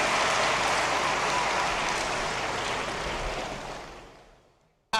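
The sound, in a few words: applause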